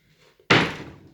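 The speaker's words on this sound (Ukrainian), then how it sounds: "Двері ці закриваються." A single sharp bang of a small door shutting after faint rustling, with a short decaying rattle, close and fairly loud.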